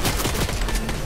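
Rapid gunfire fills a short stretch of a building-style battle game, a dense, loud, continuous volley of shots with no talking.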